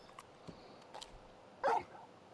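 Torgal, the large wolf-dog from Final Fantasy 16, gives a single short bark, faint and brief amid quiet game ambience.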